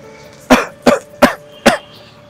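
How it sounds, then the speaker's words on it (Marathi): Four sharp coughs from one person, evenly spaced about a third of a second apart, close and fairly loud in an otherwise quiet indoor space. "काय रे आज खोकला?"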